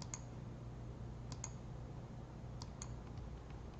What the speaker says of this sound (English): I'm going to click that and drop it in there 4 times.